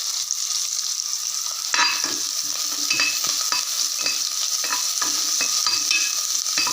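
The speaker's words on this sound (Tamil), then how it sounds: "வெங்காயம் வதங்கினா போதும்." Onions sautéing in oil for nombu kanji, a steady bright sizzle with repeated scraping stirs of a spoon against the pan, close and continuous with no talk.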